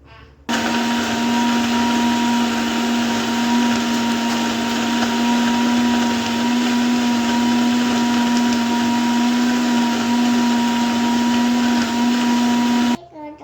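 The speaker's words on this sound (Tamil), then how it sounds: "இப்போ மிக்சியில் என்ன பண்ணணும் அரைக்கணும் அரைச்சிட்டு வரேன்" A kitchen mixer grinder whirs steadily as it blends cucumber and milk into juice, a loud, constant motor hum with a strong tonal whine that starts abruptly, runs unbroken for about twelve seconds, then cuts off.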